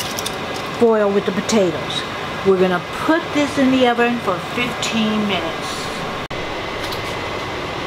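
An electric fan runs steadily in a home kitchen, a constant airy whir under a person's talking voice throughout.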